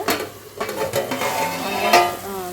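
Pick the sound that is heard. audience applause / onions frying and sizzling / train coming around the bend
onions frying and sizzling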